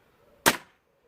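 A single sharp, close crack from a Weihrauch HW100T air rifle firing an H&N Field Target Trophy 8.64 grain pellet, quickly decaying into quiet.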